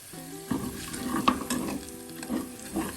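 Asafoetida and turmeric sauté in a pan for Kerala-style pulissery, a soft sizzle with a few light stirring scrapes and clinks over a steady low frying hiss.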